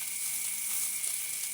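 Adobong sitaw, a dish of string beans, frying in a pan gives a steady, even sizzle with a bright hiss that holds from start to finish, with no voices.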